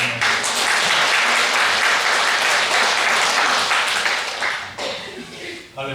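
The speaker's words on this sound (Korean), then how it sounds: "박수로 한번 해주세요." A church congregation bursts into loud, sustained applause for several seconds during a Sunday service, then it fades and thins into scattered claps.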